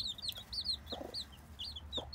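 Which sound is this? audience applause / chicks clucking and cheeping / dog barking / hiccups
chicks clucking and cheeping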